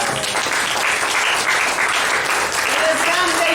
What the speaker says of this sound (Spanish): Dale unos grandes palmas a Jesús.